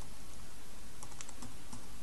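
Typing on a computer keyboard to enter a coupon code, a short run of light, scattered key clicks at moderate level with no talking.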